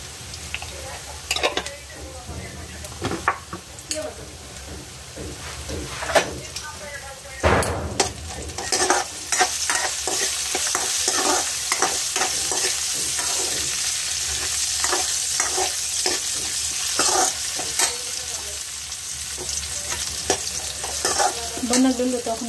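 Potatoes with turmeric are stirred and fried in a village kitchen in Nepal: a steady sizzle broken by scraping stirs and occasional utensil clinks, with a faint voice now and then.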